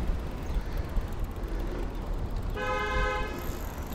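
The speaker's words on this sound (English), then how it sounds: "getting honked at already" A car horn honking on a city street in Minneapolis, one short distant toot rising above a steady traffic rumble near the end, no voices.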